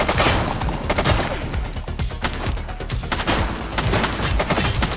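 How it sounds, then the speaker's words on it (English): Gunfire in The Precinct police video game, with dense rapid volleys of loud shots and booms rattling continuously throughout, close and overpowering. "He's shooting!"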